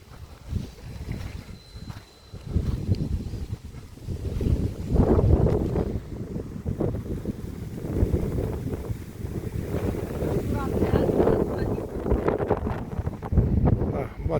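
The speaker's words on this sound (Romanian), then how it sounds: "bate un pic vântul." Wind blows across a beach on Pulau Weh, Indonesia, as a low, rumbling, gusty buffeting on the microphone that swells and eases continuously, with faint voices in places.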